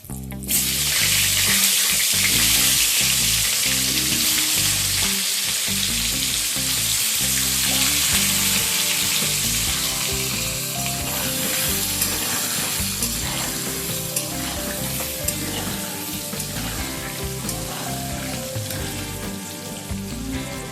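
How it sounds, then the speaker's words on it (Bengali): Halved potatoes with salt and turmeric fry in oil in a covered pan, giving a loud, continuous sizzle with bubbling and spattering for the whole stretch. "এবার আলুটাকে আমি চাপা দিয়ে ভেজে নেবো, যাতে ভাজার সাথে সাথে আলুটা একটু সফটও হয়ে যায়।"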